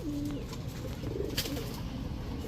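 Pakistani pigeons kept by a breeder coo softly, with a couple of low, short coos close by over a quiet background hum and no talk.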